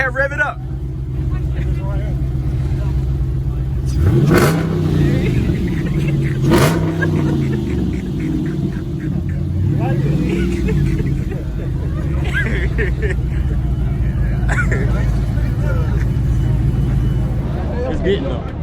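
A Lamborghini Huracan at a car meet revs hard, with sharp rising engine sweeps over a steady idle while a crowd murmurs nearby.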